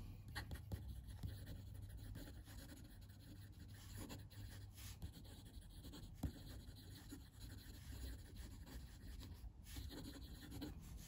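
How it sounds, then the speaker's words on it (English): A TWSBI Swipe fountain pen scratches quickly across paper, a soft continuous rasp with small ticks and strokes, close and faint, with no talk. "Quick writing."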